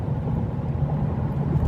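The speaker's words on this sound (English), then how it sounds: "The sound that the engine makes is intoxicating and addicting, and even at idle, it sounds fantastic." An E46 BMW M3 engine runs at idle, a steady, close, low rumble with a slightly uneven throb and no other sounds on top.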